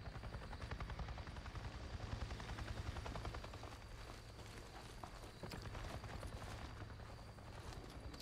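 Helicopter in the video game Days Gone, a steady loud rotor drone with rapid chopping pulses running continuously under the game's ambient noise.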